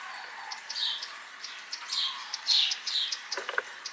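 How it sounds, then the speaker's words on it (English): Wintering cranes calling, a scatter of high chirping and trumpeting notes at a distance, faint and intermittent against a quiet background. "Can you hear that? Not the machine, but the bird noise."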